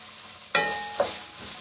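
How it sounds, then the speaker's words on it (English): Two quick scraping strokes of a spatula through a lamb dish in a light, flat-bottomed iron wok, each a short metallic swipe over a soft background hiss, with no talking. "Okay, just a quick stir, nothing fancy."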